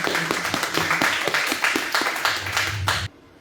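A church congregation claps in a steady rhythmic beat, the sound fairly close and continuous for a few seconds before stopping abruptly.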